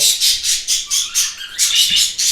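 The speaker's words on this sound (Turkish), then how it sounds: "Onlar sürekli cıvıl cıvıl." Bright, high-pitched chirps from male birds repeat in quick rhythmic bursts, loud and close, forming a busy, continuous twittering.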